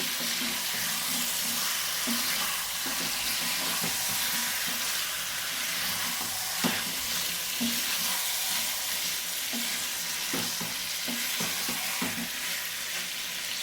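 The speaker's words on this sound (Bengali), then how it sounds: "আলুগুলো সিদ্ধ হবে তো তার জন্য একসঙ্গে দিয়ে এবার খুব ভালোভাবে কষিয়ে নেব" Potatoes frying with spices in a pan give a loud, dense sizzle that runs unbroken throughout, with scattered scrapes and knocks of stirring on top.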